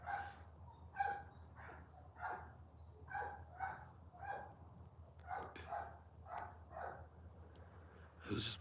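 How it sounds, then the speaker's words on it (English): A dog barks somewhere in the distance, a series of faint, irregular barks and yips spread over several seconds against a quiet outdoor background. "Who's having a bark down over there?"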